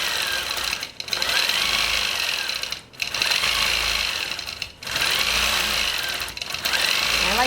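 A longarm quilting machine stitches through a quilt with wool batting, its steady mechanical whir running continuously with a few brief pauses as the needle path changes.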